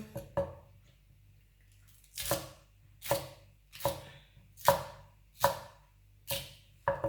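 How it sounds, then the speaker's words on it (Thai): Aged ginger is sliced on a cutting board with about seven crisp, evenly spaced knife chops. They are close and distinct against a quiet background. "หั่นขิงแป๊บนึง ขิงนะมันก็จะเป็นขิงแก่"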